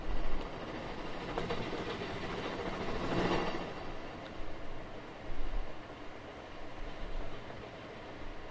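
A train passing through a station in Minecraft: a quiet, steady rumble with faint rhythmic clatter of wheels, swelling slightly in the middle and staying low and distant throughout, with no voices over it.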